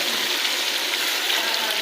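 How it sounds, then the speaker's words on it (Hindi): Water pours into a pot of pumpkin cooking with chana dal, a continuous close splashing hiss lasting a couple of seconds with no talk over it. "थोड़ा सा डालते हैं पानी"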